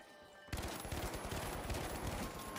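Rapid automatic gunfire in the video game The Finals erupts suddenly and continues as a loud, dense volley with no talking.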